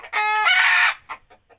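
A chicken lets out a loud, drawn-out squawking call up close, followed by a few shorter clucks trailing off quietly.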